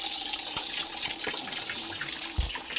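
A household water tap runs in a steady, close-up stream with no one talking, a few faint clicks and drips showing through the flow.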